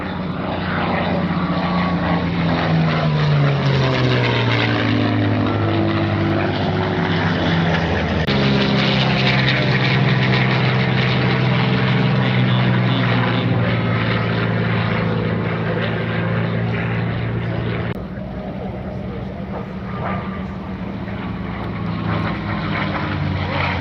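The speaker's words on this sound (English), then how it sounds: "What a remarkable machine, the mighty P-51 Mustang" A P-51 Mustang propeller aircraft makes a high-speed pass at an air show, its loud, close engine roar droning continuously while the pitch sweeps downward as it goes by.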